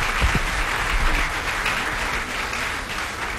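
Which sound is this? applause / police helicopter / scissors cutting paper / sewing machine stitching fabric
applause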